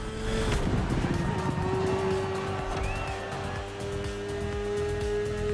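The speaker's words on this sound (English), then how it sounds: "The one you're riding is the S1000RR." BMW S1000RR superbike engine in The Crew Motorfest racing game, a steady high-pitched drone at speed with a constant loud whine and rushing noise throughout, no talk.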